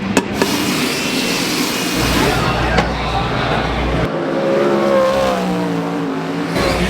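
Sprint race car engines roar through hot laps at the 360 Knoxville Nationals dirt track, a continuous loud, dense engine drone with shifting pitch and cars passing, while voices talk over it.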